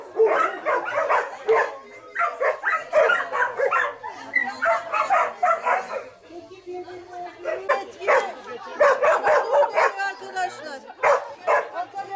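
Several dogs barking and yipping in repeated bursts, loud and close, with some whimpering among them and people talking over and between the barks.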